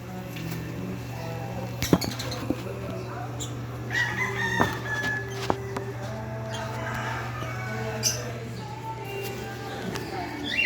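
Pet birds at feeding time give scattered chirps and clucking calls, a few sharper cries standing out over a steady low hum, fairly close by.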